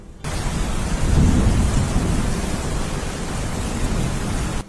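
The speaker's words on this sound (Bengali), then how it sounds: "হঠাৎ একদিন শুরু হয় প্রচন্ড ঝড় তুফান আর বৃষ্টি" Heavy rain pours steadily with a deep rumble of thunder swelling early on, a dense continuous roar with no voices, during a storm.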